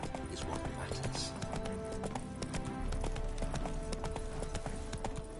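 A horse's hooves clip-clop in a steady walking rhythm in The Witcher 3, close and continuous, with voices talking over the hoofbeats.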